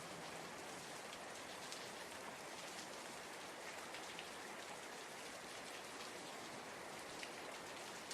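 Steady, even rainfall patters continuously on surfaces, a soft, dense hiss of countless drops with no voices or other sounds, quiet and unbroken throughout.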